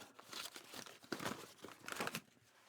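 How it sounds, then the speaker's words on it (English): Paper pages being crumpled by hand for tea-dyed craft work, a close, dry crinkling that comes in several bursts across the clip, with no voices. "Crumple up my pages, open it back up"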